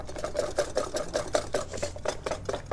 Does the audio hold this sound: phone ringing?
no